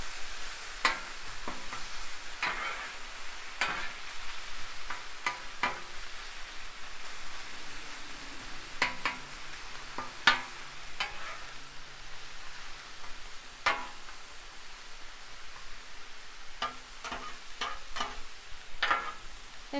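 Fried rice sizzling and being spread on a Blackstone griddle, a steady close crackling hiss with frequent sharp scraping and stirring clicks, no talking.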